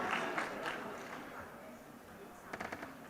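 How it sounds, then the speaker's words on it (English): An audience applauds panelists at a sustainability summit in Gujarat, a fairly loud wash of clapping that fades toward the end before a few sharper claps return. "Can I hear a loud round of applause?"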